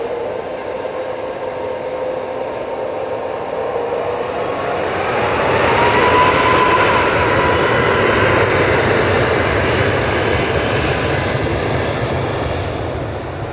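A Ryanair Boeing 737 MAX 8 comes in to land at Manchester Airport. Its steady jet roar swells to a peak partway through and then eases slightly, loud and unbroken, with no voices.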